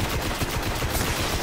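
Rapid gunfire in the video game Destiny, a dense, loud burst of shots in quick succession filling the whole moment with no talk.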